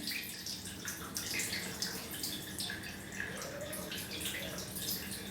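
Cold water poured directly over the knees, without a towel, during a home hot-and-cold treatment for swollen, painful knees, a steady close splashing and dripping stream, quiet and continuous with no talking.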